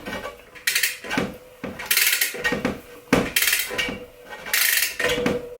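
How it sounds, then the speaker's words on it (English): A torque wrench on a 1-inch socket and cassette removal tool tightens a bicycle cassette to 40 Nm, giving repeated close ratcheting clicks in short bursts, about five strokes with brief pauses between them. "take our 1-inch socket and torque wrench, set to 40 Newton meters, put it on the cassette removing tool, and then push lightly and crank down on the cassette"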